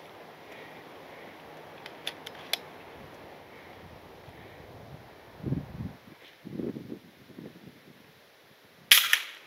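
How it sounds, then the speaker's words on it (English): A single sharp crack from an FX Impact MKII airgun fired at a rabbit among rocks in Colorado, heard near the end after quiet outdoor ambience with brief low rumbles and a few faint ticks. "gonna take the shot"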